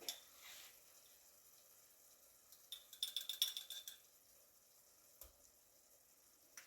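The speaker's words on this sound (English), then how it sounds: "I'm going to add a little minced garlic" Minced garlic sautéing in butter over medium-low heat for crab stew gives a faint, steady sizzle, with a brief cluster of metal utensil clinks against the pan midway.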